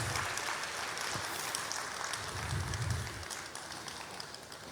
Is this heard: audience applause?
yes